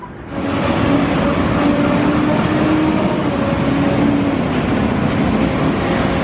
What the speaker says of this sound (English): All the different modes of transport, cars, buses, bikes, the tram.